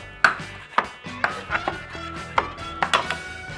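Knife chopping a small amount of dill on a cutting board for a steamed salmon omelet breakfast sandwich: about eight crisp, separate chops at uneven intervals, close and fairly loud, with no talking.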